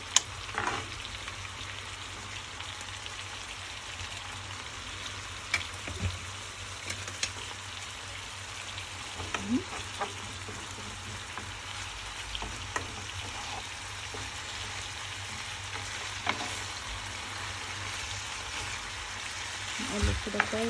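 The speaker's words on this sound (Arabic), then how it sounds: "انا بس هخليه يسخن بس كده مع الدهون اللي نازله من الفراخ والسمنه اللي احنا حاطينها" Garlic frying in a pan with rendered chicken fat and ghee while making smoked garlic-lemon chicken: a steady, close sizzle with crackling pops throughout, without pause.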